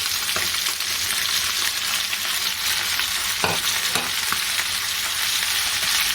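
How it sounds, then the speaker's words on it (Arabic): Onions and spices are tipped into chicken already frying in a pan, giving a loud, close, continuous sizzle broken by a few sharp clinks and scrapes of stirring, with no talking. "هنا بقى في المرحله دي هحط عليها البصل"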